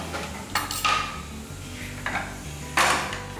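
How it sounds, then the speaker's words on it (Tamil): Pan lifted off a stove and set down after frying: clattering metal knocks and scrapes at close range, three distinct bursts over a steady low background hum. "இப்போ அடுப்பில் இருந்து இதை எடுத்து வச்சிடலாம் கீழே"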